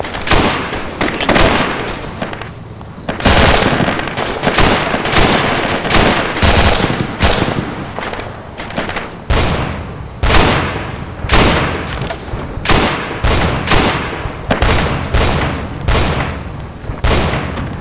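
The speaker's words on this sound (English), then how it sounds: "I see fire coming from the tunnel." Sustained gunfire in the video game Arma 2, with dense repeated bursts of automatic fire and heavy shots echoing loudly and close, filling the whole stretch with little pause.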